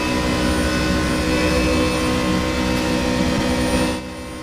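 A race car engine in the RaceRoom sim roars at a steady, dense high pitch for about four seconds, then drops abruptly as the throttle lifts, with no voices.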